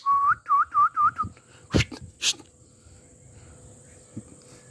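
A ring-necked parrot whistles a quick series of five rising, looping notes close by, followed by a couple of sharp clicks and quiet background.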